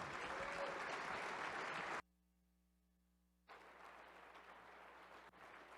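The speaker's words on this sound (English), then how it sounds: "I want you to give him a good round of applause." A banquet audience gives a round of applause for a keynote speaker, a dense burst of clapping that cuts off abruptly into near silence, then resumes more softly.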